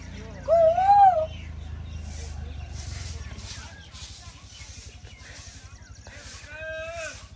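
Someone imitates a koel's call with a rising, whistle-like vocal note at the start and another near the end, over a steady rhythmic background noise.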